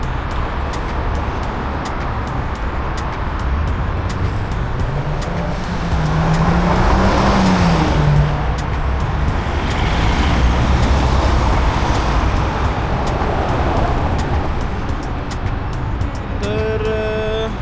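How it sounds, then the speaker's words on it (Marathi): Cars pass along a busy city street at a traffic signal, producing a continuous loud road roar with one vehicle sweeping past midway. "गाड्या जातात समोरून."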